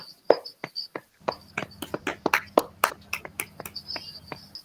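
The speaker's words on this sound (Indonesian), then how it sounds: "Tepuk tangan buat temannya." Young first-grade children in a classroom clap their hands in a short burst of irregular, sharp claps that speeds into a patter, close by, with a faint hum under it.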